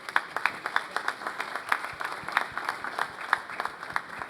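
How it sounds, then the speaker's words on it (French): An audience at an industry innovation awards ceremony applauds the participants, a moderate, steady patter of many hands heard at some distance and fairly quiet. "donc je crois qu'on peut vous applaudir."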